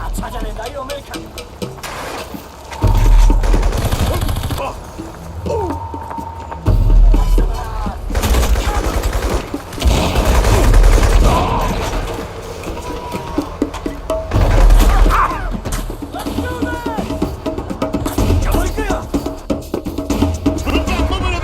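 Gunfire in the shooter game Crysis Warhead, scattered bursts and thuds with booming impacts amid a chaotic battle, mixed under frequent shouted voices throughout.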